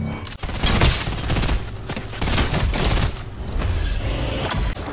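Loud, near firing and blasts from a rocket launcher in a video game, a dense barrage of gunfire with booming hits rolling on continuously, with talk in the background.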